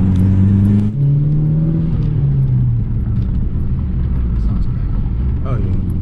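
Loud, steady engine drone from a Volkswagen MK4 GTI fitted with two-step launch control, heard close from inside the car with a deep, slowly shifting pitch and no clear break in the sound.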